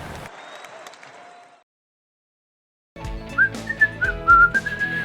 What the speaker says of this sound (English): that guy just whistled the national anthem, and that was awesome.